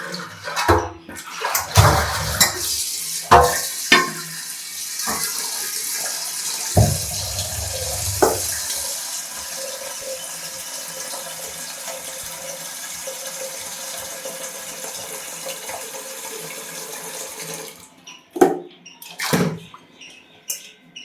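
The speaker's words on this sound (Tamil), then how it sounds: "இன்னும் ஒரு தண்ணி ஊற்றி அலசிடுவோம்" Water splashes and sloshes as dried anchovies are rinsed by hand in a basin, with running water and a few sharp knocks near the end.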